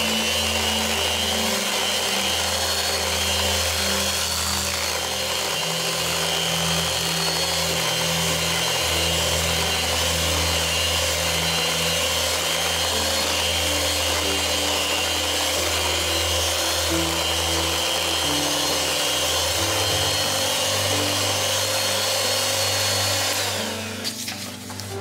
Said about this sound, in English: that trick on using the mixer, handheld mixer to get the strings out